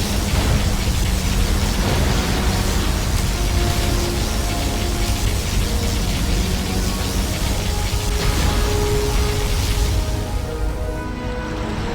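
A particle cannon fires in the Command & Conquer Generals Zero Hour battle game, a continuous roaring, rumbling blast mixed with heavy explosions that stays loud throughout and thins out near the end.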